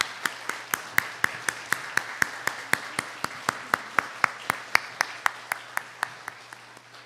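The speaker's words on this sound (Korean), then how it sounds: "우리 다시 한번 뜨겁게 우리 격려의 박수 부탁합니다" Slow, steady, evenly spaced hand claps from a church congregation at a Christmas service, applauding the choir, ring out in unison, about three per second, sharp and clear against a quiet background.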